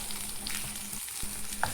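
Grated coconut fries together with a spice tempering in hot oil for a Malabar-style koottucurry, giving a steady close sizzle with a few stirring scrapes and pops.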